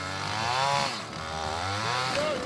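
Gasoline chainsaw running loud and near, its engine pitch sweeping up and down as it revs and bogs while cutting, with no talk.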